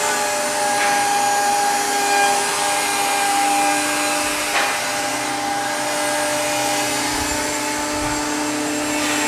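Router shaping the edges of a wooden table top, a steady high-pitched whine running continuously at close range with no speech.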